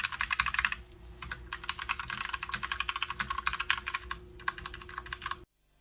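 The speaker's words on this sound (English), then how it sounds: "get some more camera audio typing tests" Rapid clacky keystrokes on a Glorious GMMK TKL mechanical keyboard, close and crisp, in fast bursts with brief pauses, ending abruptly.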